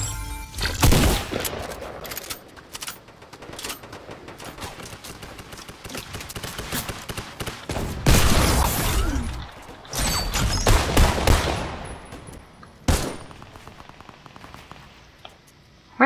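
Fortnite gunfire in a video game match, several loud bursts of rapid shots separated by quieter stretches of scattered distant pops and ambient game noise.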